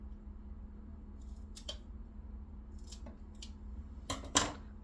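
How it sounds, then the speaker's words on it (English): Kitchen shears snipping the bad tip and root end off a vegetable, a few faint separate cuts over a low steady background hum, with a louder clipped snip near the end. "I cut the bad part of that tip off with my kitchen shears"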